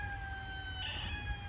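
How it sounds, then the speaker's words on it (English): A rooster crows in a backyard chicken coop setting, a thin, sustained call heard faint and somewhat distant over a low background rumble. "Rooster."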